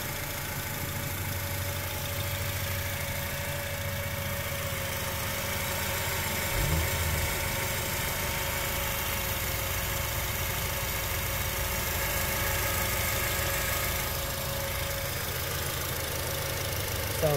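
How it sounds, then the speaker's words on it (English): A 2006 Acura TSX with its unmodified K24A2 engine idles steadily, a smooth, even hum with a constant low drone, close by and unbroken for the whole stretch with no talking. "Hear that engine purr."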